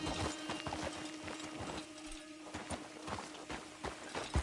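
Horse hooves walking in the Red Dead Redemption 2 video game, a soft, fairly faint steady clip-clop of hoofbeats in even rhythm over a low ambient background.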